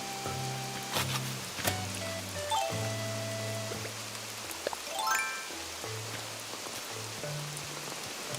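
Steady hiss of rain falling in Animal Crossing: New Horizons, a soft even wash that runs the whole time under gentle tonal game music.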